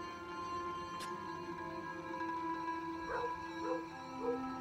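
A dog barks and yips in the side-scrolling strategy game Kingdom New Lands, with a few short, fairly quiet barks late in the clip over a steady game music bed.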